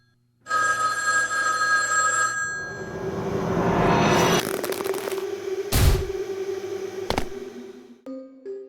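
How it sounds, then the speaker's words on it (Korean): A telephone rings with a bright, electronic bell-like trill, loud and close, followed by scraping and a couple of sharp cracks, then a different ringing tone at the end. "그때 모모에게 한 통의 전화가 걸려오는데"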